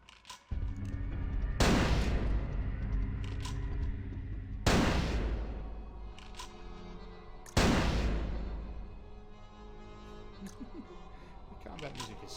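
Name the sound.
gunfire from an enemy with unlimited bullets in Vampire: The Masquerade – Bloodlines video game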